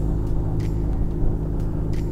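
A VW Passat fitted with a short shifter rolls along with a steady low engine and road rumble heard from inside the cabin, with faint intermittent ticks over the drone and no talking.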